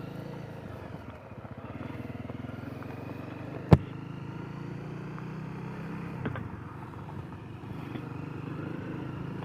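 Honda CRF250L motorcycle idling steadily on Sugar Camp Road, a low continuous engine rumble with a sharp click near the middle and a slight rise later, no talking.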